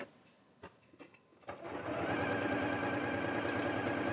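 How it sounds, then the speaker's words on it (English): A sewing machine with a 2.0 stitch length stitches along a drawn line on quilt fabric. A few soft handling taps come first, then the motor starts up into a loud, steady close hum that continues to the end. "So I'm just going to stitch right along that drawn line."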